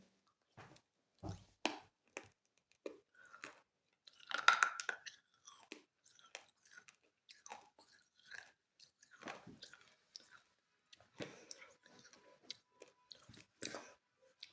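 Orange-flavoured crunchy snacks are bitten and chewed close up, a series of sharp, irregular crunches separated by quiet pauses.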